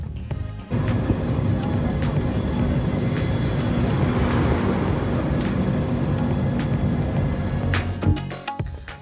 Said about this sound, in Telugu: ఇప్పుడు ట్రైన్ బ్రిడ్జ్ మీద రన్ అవుతుంది.